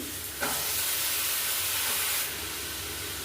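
Water is poured into a pan of frying ground turmeric, chilli, cumin, coriander and black pepper for a radish kofta curry, setting off a burst of loud hissing sizzle that holds steady, then eases back to a softer bubbling fry.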